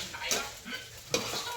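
Chow pan with sweet corn is stirred in a hot frying pan, giving a soft, steady sizzle with a couple of sharp utensil scrapes against the metal, close and fairly quiet.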